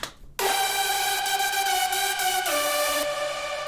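Hardstyle synth lead built from layered Serum patches in FL Studio, a bright sustained sawtooth-rich tone entering abruptly after a short pause, holding a note and then stepping down in pitch, loud and alone.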